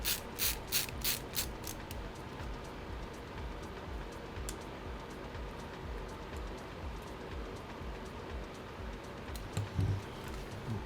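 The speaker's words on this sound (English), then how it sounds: "Let's put the last of these battery screws in, put the last of these motherboard screws in" Screws being driven into the battery and motherboard of an HP Chromebook 13 during a palm rest replacement, giving a dense steady ratcheting buzz with a few sharper clicks at the start, close up and without speech.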